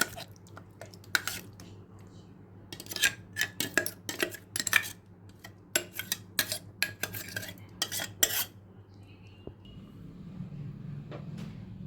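A batter of ground Gobindobhog rice, tomato and chili paste being mixed for bora, heard as a run of sharp utensil clicks and taps against a bowl that then stop, close and quiet with no talk.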